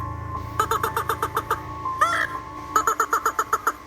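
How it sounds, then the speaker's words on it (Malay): Repeated rhythmic chirping bursts from a village decoy bird calling to the sintar bird, in two quick trains of about eight notes each, separated by a brief trilling call, loud and close over a low steady hum. "Suara pipit pemikat penduduk kampung panggil burung sinta"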